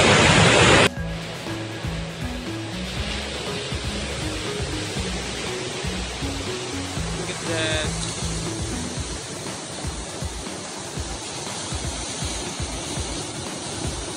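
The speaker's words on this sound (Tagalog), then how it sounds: "Grabe ang ingay ng alon." Ocean waves wash onto Dampay Beach in Labrador, Zambales, a continuous rushing roar of surf that stays steady and fairly loud after a brief louder opening, with no talking.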